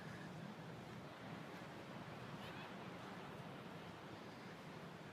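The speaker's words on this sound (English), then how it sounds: "It looks like the waves are significant." Steady ocean surf washing in at the beach by the Ocean City boardwalk, a continuous broadband roar, with some wind buffeting the microphone; no distinct voices stand out.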